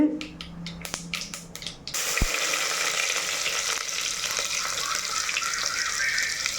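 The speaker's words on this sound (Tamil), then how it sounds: "சீரகம் துளியோண்டு வெந்தயம் போட்டு தாளிக்கிறேன்" A few sharp pops and clinks, then a sudden loud sizzle of cumin and fenugreek seeds hitting hot oil that keeps crackling steadily.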